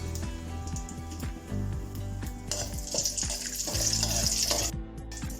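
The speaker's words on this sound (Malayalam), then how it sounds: "അണ്ടിപ്പരിപ്പ് മുന്തിരി ഒന്ന് വറുത്തെടുക്കാം" Steady oil sizzle as cashews and raisins fry in a pan, with soft stirring scrapes and a hum of background noise throughout.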